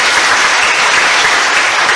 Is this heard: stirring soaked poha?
no